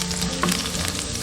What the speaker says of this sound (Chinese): 锅中倒少许食用油， 下入姜丝炒香